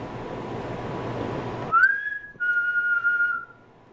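A single person whistles a brief rising then steady tone, clear and fairly close, after a stretch of dull background noise.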